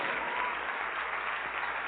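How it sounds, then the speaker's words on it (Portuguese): Church congregation applauding together in worship, a steady, even wash of clapping heard alone and at moderate volume for a brief stretch. "Vem aqui para frente, vamos aplaudir mais o Senhor Jesus."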